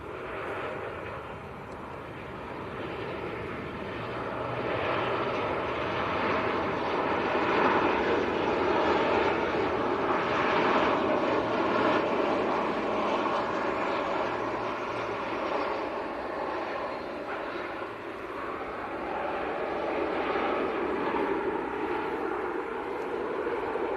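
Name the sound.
Sun Express airliner from Antalya on final approach, landing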